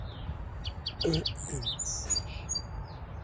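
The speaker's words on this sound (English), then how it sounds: "Hearing the lovely birds out this morning." Small birds chirp and tweet in short bright bursts, a few calls overlapping, set against a soft outdoor hum.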